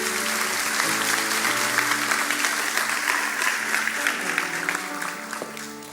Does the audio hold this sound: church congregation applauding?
yes